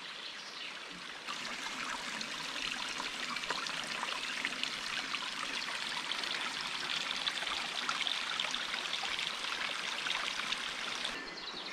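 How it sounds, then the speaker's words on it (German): A small waterfall on a woodland hiking trail near Solingen trickles and splashes in a steady, continuous wash, close and fairly loud, with no talk over it. "Das ist auf jeden Fall ein kleines Wasserfältchen."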